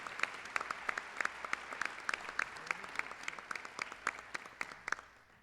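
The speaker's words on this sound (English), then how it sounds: "Let's give them a round of applause." Audience applause at a 2014 State of the City address, a fairly faint, sparse crowd clapping with distinct individual claps, steady for several seconds before tapering off.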